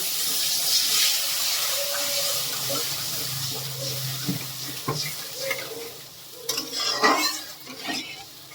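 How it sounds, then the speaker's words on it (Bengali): Water poured into a pan of fried spice masala for gravy, then stirred: a steady broadband hiss and sizzle with scraping stir strokes, louder clattering toward the end, no talk. "এবারে গ্রেভির জন্য পরিমাণ মতো জল দিয়ে দেব।"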